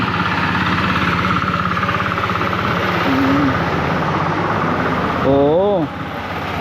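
A tractor engine runs steadily in a rural barangay, giving a continuous rumbling drone with a rhythmic pulse, while someone talks over it throughout.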